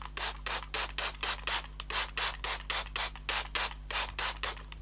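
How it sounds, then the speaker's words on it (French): Rapid, evenly spaced hissing pumps of a water spray bottle misting a crocheted granny-square bag, about a dozen quick bursts in a steady rhythm over a low constant hum. "Et il faut un petit spray avec de l'eau."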